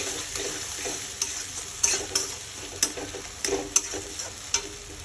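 Salted tomatoes sauté in a pan for a fish curry with potato and green banana, a low hiss broken by sharp, regular scraping taps of a spatula being stirred.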